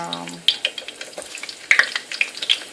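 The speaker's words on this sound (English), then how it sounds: "fry up our onions" Big onion rings dropped into fresh hot oil, sputtering and crackling up close in a series of sharp pops and bursts over a soft frying hiss.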